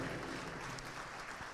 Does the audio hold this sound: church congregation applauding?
yes